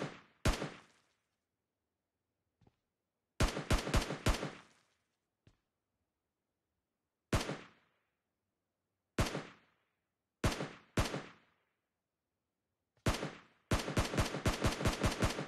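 Gunfire in the mobile battle royale game PUBG Mobile: loud, sharp shots in separate bursts, single cracks and quick volleys with gaps of silence between, ending in a rapid automatic string.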